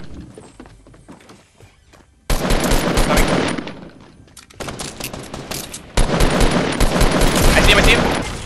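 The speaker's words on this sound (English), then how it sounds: "Where's the gunfire from?" Rapid automatic gunfire from the Fortnite video game breaks out in two long, loud, dense bursts after a quieter stretch of footsteps and game ambience, with a player briefly talking over it.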